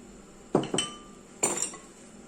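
A utensil clinks against a bowl while ground ingredients are mixed with a small spoonful of oil. Three brief, quiet knocks sound close by in an otherwise still kitchen.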